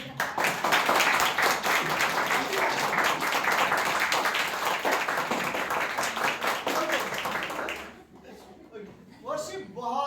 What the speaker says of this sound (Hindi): हमारे म्यूजिक टीम के लिए भी हम लोग ताली बजाते हैं